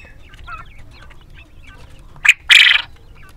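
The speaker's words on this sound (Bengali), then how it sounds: "আর এই পাশের পাখিগুলো কিন্তু ডাক দিচ্ছে। অবশ্যই এটা পুরুষ পাখি, যেটা খুব জোরে সোরে ডাক দেয়।" Male quail, from a first batch hatched in a home incubator, gives two sharp, loud calls close together near the end, after soft background rustling.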